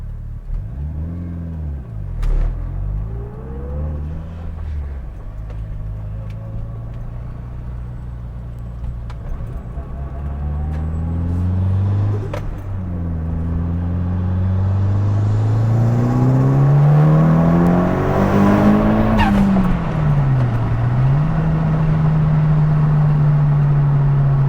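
A Mitsubishi Evo 9 turbo engine with GSC S1 cams accelerating under boost, the engine note climbing steadily through the revs and growing louder toward the end, heard from inside the car with no talking.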